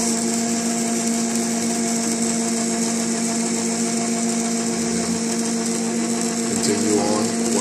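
Electric mixer steadily whirring as it beats pound cake batter with flour added a little at a time, a continuous close motor drone with no talking.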